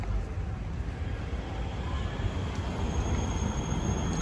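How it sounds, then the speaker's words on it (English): A tram in Krakow, Poland rumbles past at close range, a steady low mechanical drone with faint high squeals from the rails, no voices. "This is their tram system"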